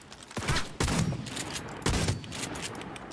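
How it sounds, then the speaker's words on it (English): Shotgun blasts in the video game Cyberpunk 2077, two loud booming shots about a second and a half apart, each with a ringing tail, over a steady bed of distant in-game gunfire. "I just sniped that guy with a shotgun."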